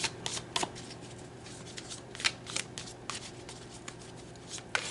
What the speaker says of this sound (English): Let's pull more cards.